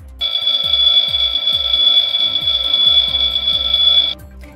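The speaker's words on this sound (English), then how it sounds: "They check out the master alarm." A fire station master alarm in a Fireman Sam cartoon rings loud and continuous for about four seconds, a steady electronic bell over a repeating low thumping pattern, then cuts off.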